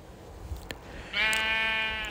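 A sheep in a video game lets out a single loud, drawn-out bleat in the second half, preceded by faint clicks and a quiet background.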